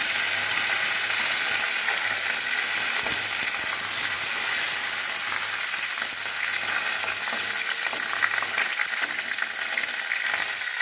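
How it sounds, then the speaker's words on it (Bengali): Curry leaves sizzle in hot oil, giving a loud, dense, continuous crackling hiss that runs unbroken from start to finish, close up and with no one talking. "এরপর আমার এই তেলটার মধ্যে আমি একটু কারি পাতা দিয়ে দেবো"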